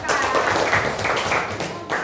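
Classroom applause for a student group, a dense steady patter of many hands clapping with voices mixed in throughout.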